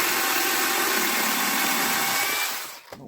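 A BITOON cordless mini chainsaw with auto-oiler, running on a Dewalt 20V MAX battery, cuts through hardwood with a loud, steady, buzzing whine that holds for nearly three seconds and then abruptly winds down.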